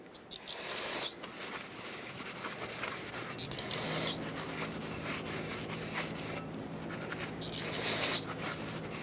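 Brake parts cleaner hisses from a spray can in three loud bursts onto the brake parts of a 1995-2004 Toyota Tacoma 2WD, with a steady rag rubbing and wiping between the sprays, close by.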